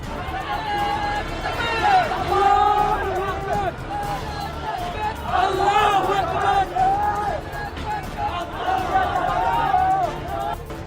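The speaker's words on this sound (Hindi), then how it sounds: "इस दौरान सड़क पर खड़े जिहादी नारेबाजी करते दिखे" A crowd of Islamist protesters in a Dhaka street, outside a newspaper office, chants slogans in rhythmic rising-and-falling waves of many voices, loud and continuous with street noise beneath.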